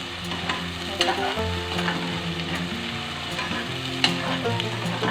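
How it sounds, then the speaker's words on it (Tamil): Onions fry in ghee in a pan for mint rice, a loud, constant close sizzle punctuated by a few sharp stirring clacks, with no voices. "வெங்காயம் நல்லா பொன்னிறமாக வரணையும் கொஞ்சம் வதக்கிக்கலாம்."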